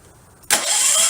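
A Champion dual fuel generator engine cranks and catches on propane, bursting from near silence into a loud, steady running roar that holds to the end.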